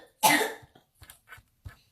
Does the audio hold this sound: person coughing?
yes